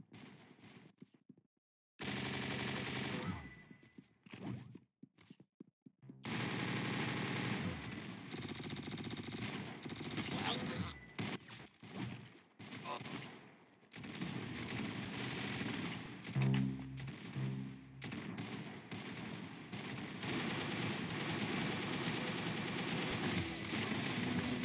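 Gunfire in the Roblox shooter game Arsenal comes in loud, rapid automatic bursts and volleys, broken by short silent gaps early on and then running almost continuously.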